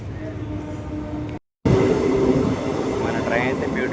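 A train pulls out of Vakala junction with a steady, loud rumble heard from onboard, broken by a brief gap before the running noise resumes and continues.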